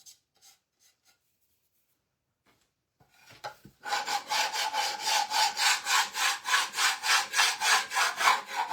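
Wax being scraped off painted wood on an 8-inch square fall shelf sitter, a rhythmic back-and-forth rasping that starts after a few quiet seconds and continues loud and steady, with no talking.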